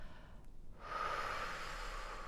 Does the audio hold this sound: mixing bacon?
no